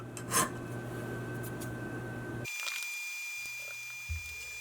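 Rasping as a key blank is filed down to fit a Leatherman Micra multitool, a close scraping run that stops abruptly, followed by quieter handling noises and a faint beep.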